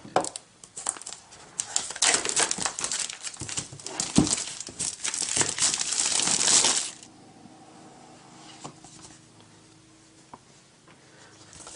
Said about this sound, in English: I'm just going to use a razor blade to cut the plastic off.